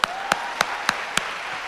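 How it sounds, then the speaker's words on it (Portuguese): Sparse audience clapping at a stand-up comedy show, with five distinct claps spaced evenly about a third of a second apart over a faint background hum. "Aplaude sem inveja"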